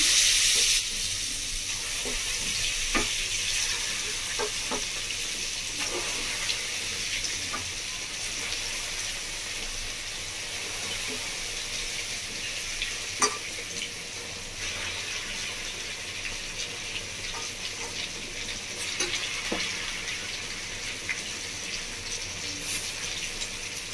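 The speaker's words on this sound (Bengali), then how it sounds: "এক খোলা ভাজে হয়ে যাবে চিকেনটা ভাজি।" Chicken pieces for chilli chicken fry in a pan of hot oil with a continuous close sizzle, broken by occasional sharp spits and scraping stirs.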